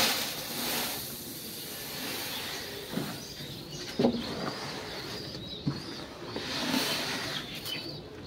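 Pigeons at a home loft, including newly released birds, give soft intermittent coos with occasional brief wing flaps over a steady outdoor background, moderately near and fairly quiet.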